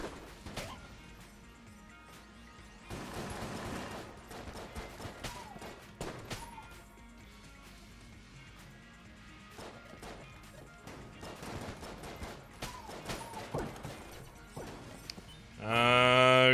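Gunfire and impact sounds from the game Enter the Gungeon, repeated crashing bursts in clusters over a low background, with a louder harsher burst at the very end.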